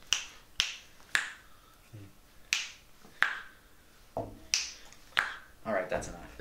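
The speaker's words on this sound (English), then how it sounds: "The magic of snapping your fingers" A series of sharp finger snaps, about ten crisp clicks spaced roughly half a second apart, close by, with brief voices between them.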